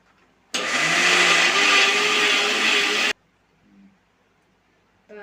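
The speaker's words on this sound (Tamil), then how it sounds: "இப்போ இதை வந்து மிக்சி ஜாரில் போட்டு ஐஸ் வாட்டர் ஊற்றி நம்ம அரைப்போம்" Mixer grinder blending cream with ice water to churn homemade butter from cow's milk, a loud steady whir running about two and a half seconds, then cutting off to near silence.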